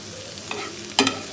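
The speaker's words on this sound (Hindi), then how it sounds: "हम अपनी सब्जियों को जो है वो सौते कर लेते हैं" Vegetables sautéing in a pan for kebabs, a low frying hiss with two short bursts of stirring or a utensil clatter, close and fairly quiet.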